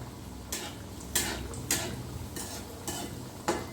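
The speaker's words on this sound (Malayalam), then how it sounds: "അപ്പോൾ നമ്മൾ വട ഏകദേശം ഫ്രൈ ആയിട്ടുണ്ട്." Rice flour vada frying in hot oil, a soft bubbling hiss broken by several sharp bursts of crackle at regular intervals, close and without speech.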